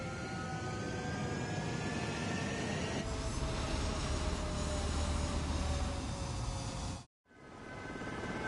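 Jet fighter engines roar steadily as aircraft power up and take off in an Ace Combat game, a loud continuous rush with whining tones, swelling midway before cutting abruptly to silence and resuming.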